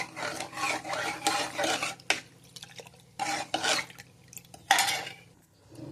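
A metal spoon scrapes and stirs barley powder inside a metal pressure cooker in bursts of rasping strokes, with short pauses between rounds of stirring.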